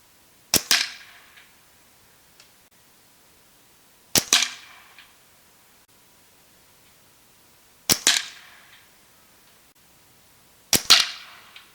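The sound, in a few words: Marauder air rifle shooting JSB pellets, four shots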